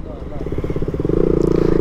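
A motorcycle engine revs steadily, its pulsing note growing louder as the bike threads through traffic, with someone talking over it.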